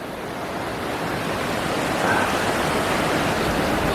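River water pours over a weir in a steady, loud, broadband rush that continues unbroken throughout, with no voices heard.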